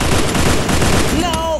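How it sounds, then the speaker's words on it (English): Dense rapid gunfire in the mobile shooter game Free Fire, a loud continuous burst of shots filling the scene, ending with a short tonal game effect. "let me try and shoot him."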